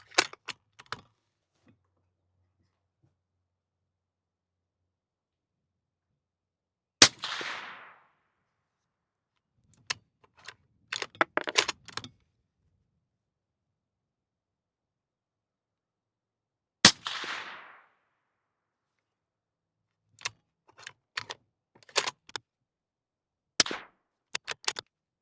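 Suppressed 6.5 Creedmoor rifle shots on an outdoor range: two sharp, loud reports spaced about ten seconds apart, each with a short trailing whoosh, among scattered quieter clicks and handling clatter, no talking.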